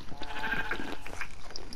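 Sheep bleating in a snowy survival video game, a few short wavering bleats spread across a couple of seconds at moderate level with no talking.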